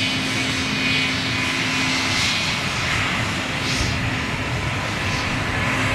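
A Swiss Airbus A220 jet airliner at London Gatwick gives a steady, loud, broad engine roar with a faint whine, constant throughout and without talk.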